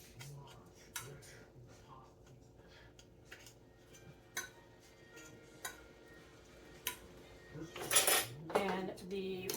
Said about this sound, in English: Okay, and then we're going to put our lids on.